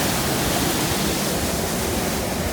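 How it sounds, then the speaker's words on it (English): A powerful waterfall on the River Brathay at Skelwith Force, near Elterwater in the Lake District, roars in a dense, continuous hiss of rushing water forced through a narrowing channel, loud and close with no pauses. "overwhelmed by the noise, the spray and the sight of this broad, furious river"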